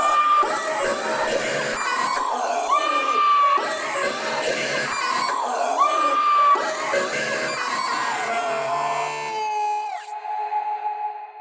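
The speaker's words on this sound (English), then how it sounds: "My favorite guitar sound, screams." An AirJamz music toy plays a looping scream sound effect, shrill overlapping shrieks and wails repeating in bursts and cutting off abruptly near the end, loud and close.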